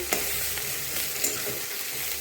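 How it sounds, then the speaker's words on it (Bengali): Spices and green chillies fry in oil for a Bengali katla fish curry, giving a continuous close sizzle with soft stirring clicks and no talk. "এখন এই মশলাগুলো আমি সুন্দর করে ভেজে নেব তেল ছাড়া পর্যন্ত।"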